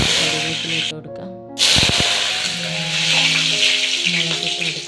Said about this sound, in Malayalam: കടുക് ഇട്ട് പൊട്ടിച്ചെടുക്കാം.